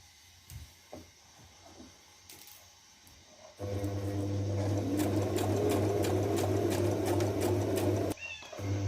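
A sewing machine runs a continuous stitch along the edge of a cotton t-shirt, buzzing steadily and loudly for several seconds after some quieter handling noises, then stopping abruptly.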